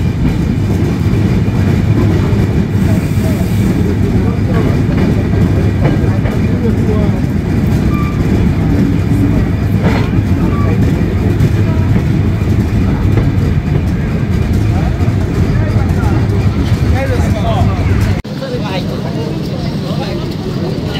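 Silkcity Express passenger train running into Joydebpur Junction, a loud continuous rumble of wheels and carriages with faint rhythmic clatter, steady throughout before dropping slightly near the end.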